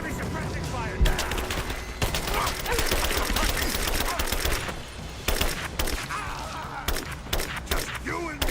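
Rapid bursts of suppressing gunfire crackle through a battle in the video game Rise of the Tomb Raider, dense and continuous with sharp individual shots, while soldiers shout over the shooting.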